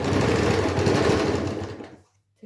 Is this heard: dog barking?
no